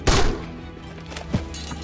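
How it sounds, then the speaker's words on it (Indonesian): A gunshot fired by Afghan troops in a war film about Sikh soldiers holding out, a sharp loud crack at the start with a second, fainter shot about a second later. "Yang ternyata tembakan tersebut berasal dari pasukan Afghanistan"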